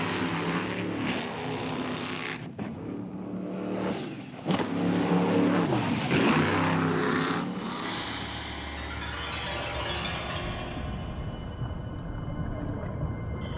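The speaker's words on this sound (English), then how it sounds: "Powerful open-water racing boats, they can be transported by ship or plane closer to the target" A powerful open-water racing boat's engine roars and surges past, rising and then fading into a lingering rumble of water and wind.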